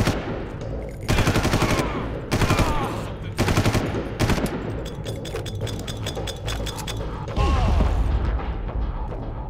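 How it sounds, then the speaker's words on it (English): Gunfire in Far Cry, loud bursts of automatic fire in several separate volleys with mechanical clinks between them, close and dominant, with no talk. "Stop shooting at the nuclear warhead!"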